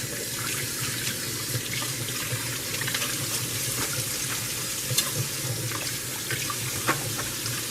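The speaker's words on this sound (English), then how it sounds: "I'm going to wash my hands" Hands are washed under a running kitchen tap, a steady close hiss of water with small splashes and rubbing, continuous throughout with no talking.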